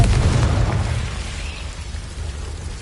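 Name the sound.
Confringo explosive spell blast in video game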